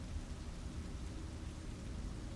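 Steady rain falls outside in a dense, even wash of hiss and patter, with a low rumbling undertone and no voices.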